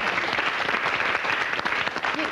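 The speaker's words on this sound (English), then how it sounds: "Round of applause" Thick, continuous studio-audience applause on a television show fills the whole moment at close range, busy and even throughout.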